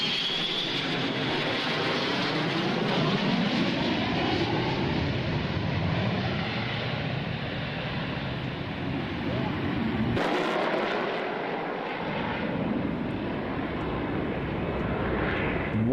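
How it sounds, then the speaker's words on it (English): A Saab Viggen military jet gives off a continuous broad roar that holds steady for the whole stretch and shifts in tone about two-thirds of the way through, while people talk over it throughout. "What an amazing looking aircraft, the Saab Viggen."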